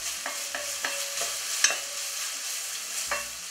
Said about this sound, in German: In der Zeit können wir jetzt auch schon die Zwiebeln zu den Möhren hinzugeben.